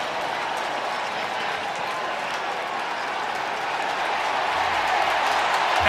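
Stadium crowd roars steadily throughout an American football video game set at a Houston Texans versus Cleveland Browns match, a dense, sustained wash of cheering that swells slightly toward the end.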